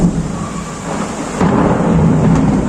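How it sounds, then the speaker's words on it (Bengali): Heavy rain falls with rolling thunder, a steady loud downpour that swells in the second half. "অবশেষে স্বস্তি বৃষ্টি নামলো"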